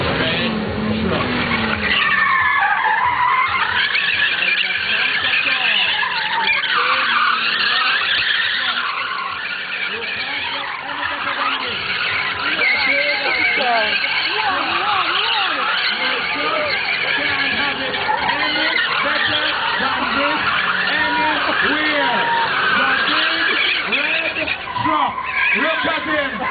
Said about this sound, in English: the big red truck just took the corner around the corner here